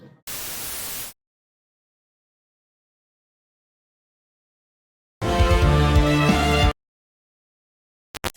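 Bursts of broadband random noise of the kind added for audio dithering, a short hiss burst early, then a longer, louder noise section mixed with tonal content, separated by silence.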